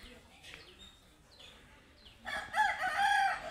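Rooster crowing outdoors in a natural farmyard setting among foraging hens, a loud crow rising near the end after faint background bird calls.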